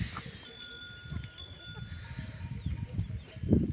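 Goats on a Spanish livestock farm, including a young buck and a dairy nanny, give faint bleats and rustle about in a pen. Light bell tinkles and low shuffling sit under them, with a louder burst near the end.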